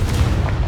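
Confringo spell explosion in Hogwarts Legacy, a short, loud, booming blast with a deep low-end thump, over in under a second.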